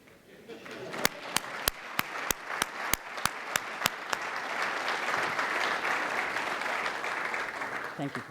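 Audience applause as the Premier of the Cayman Islands appears at a State of the Nation event: a few loud, evenly spaced near claps first, then the crowd's clapping swells into a full sustained ovation.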